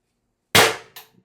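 A single sharp pop from a Beeman BP50 CO2 air rifle carbine with a 16-inch barrel, followed by a quick fainter metallic click, close and loud against silence.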